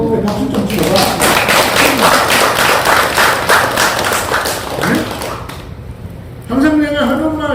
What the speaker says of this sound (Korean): 그래, 박수 좀 쳐봐